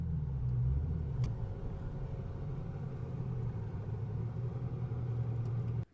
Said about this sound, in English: So let's pull the car in and air up a tire.